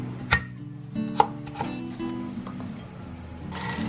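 Knife chopping ginger on a cutting board in a home kitchen, a few sharp separate strikes spaced irregularly, fairly close and moderately loud, with faint background noise between cuts.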